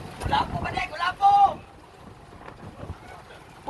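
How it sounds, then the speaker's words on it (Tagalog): Strong wind at sea gusting hard against the microphone during a boat trip with divers, a loud rumbling buffet under excited shouting voices that drops to a steadier, quieter roar before rising again at the end. "Grabe, ang lakas ng hangin mga ka-drivers."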